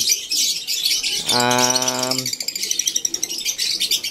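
African lovebirds chirp close by in a busy, rapid chatter of high-pitched tweets, with one longer, tonal call standing out briefly in the middle.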